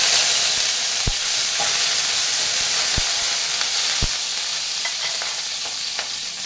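Cinnamon, cloves, a cardamom pod and curry leaves frying in hot oil, giving a loud, continuous sizzling hiss with a few brief taps of a spoon against the pan.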